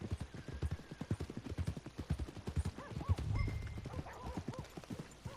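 Horse hooves in Red Dead Redemption 2 clip-clop at a steady walking rhythm on the way to the stables, close and continuous, with a brief whinny and snort partway through.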